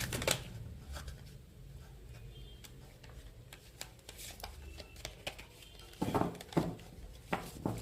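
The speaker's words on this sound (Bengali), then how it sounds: "আর একটা কার্ড নেব।" Playing cards drawn and handled from a deck, a series of soft, crisp ticks and slaps scattered through the span, with a denser cluster of louder card snaps near the end, close and alone without talk.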